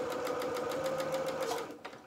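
Sewing machine stitching a curved seam on a doll's cap, a steady close whirring run of rapid needle strokes that slows and stops near the end.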